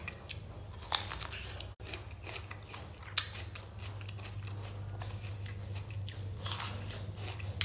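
Crunchy Thai fruit, Doi cherry or plum, is bitten into nearby with a few sharp crisp snaps, followed by quiet crunching chews in a calm, otherwise hushed room.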